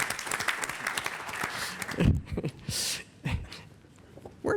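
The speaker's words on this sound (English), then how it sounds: "Steve Spann, who almost should get his own round of applause" An audience at a Texas Medical Center consumer survey event gives a round of applause that fades out after about two seconds, leaving a few scattered noises and faint sounds.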